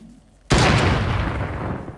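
A single sniper shot in the Fortnite video game hits suddenly and loudly, then rings out in a long, broad rumbling tail that fades slowly over the next second and a half.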